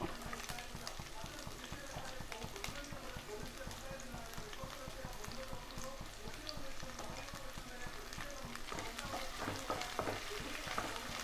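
Sliced onions sautéing with ginger and garlic in a pan, a dense, even frying sizzle that crackles steadily for the whole stretch, close by.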